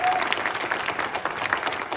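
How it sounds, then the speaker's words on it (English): Brief burst of dense applause from a room full of people at a seminar Q&A, clapping loud and continuous throughout, with some voices mixed in. "Give yourself a big round of applause for being here."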